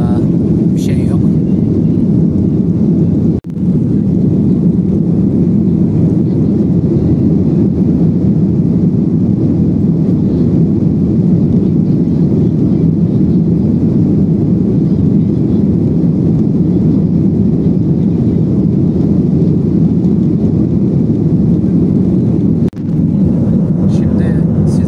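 A loud, steady low rumble of airplane cabin noise during takeoff and climb drones on without letup, broken only by a couple of brief dips.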